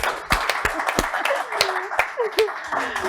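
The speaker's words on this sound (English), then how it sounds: "Let's give both of them a round of applause" A small audience gives a round of applause for two interview guests at an entrepreneur talk, distinct individual claps in a loose, sparse rhythm, close and fairly light, with some talking mixed in.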